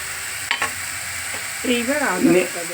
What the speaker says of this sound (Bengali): তাহলে পড়লো জিরে লঙ্কার গুঁড়ো মানে মির্চ লাল মির্চ আর এই আদা আদা পেস্ট